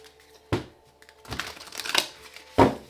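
Tarot cards riffle and slap together in a few quick bursts of papery crackling, close by, with no talking.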